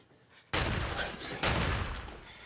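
Gunfire in a crime-film shootout with smoky cartridges: two sudden, loud blasts about a second apart, each leaving a dense, roaring wash of noise that barely fades between them.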